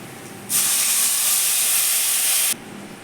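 Tamarind extract poured into hot oil for tamarind rice, bursting into a loud, steady hiss that holds for about two seconds and then cuts off abruptly.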